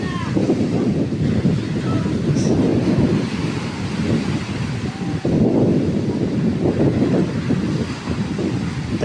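Heavy surf roars steadily with a broad, rumbling wash of water, strong and continuous, with gusting wind buffeting the microphone throughout.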